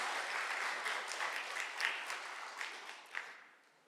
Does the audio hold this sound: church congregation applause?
yes